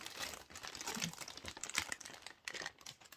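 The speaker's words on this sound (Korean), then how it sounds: "빠르게 언박싱" Close, quiet crinkling and rustling of plastic packaging while an anime figure is unboxed, in irregular bursts of handling with no speech.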